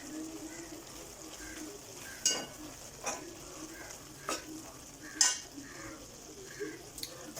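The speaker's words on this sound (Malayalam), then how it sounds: "ഇപ്പോൾ കറി തിളച്ചുകൊണ്ടിരിക്കുകയാണ്." Vegetable curry simmering in a pot gives a low continuous bubbling hiss, broken by a few clinks and stirring knocks of a spoon against the vessel.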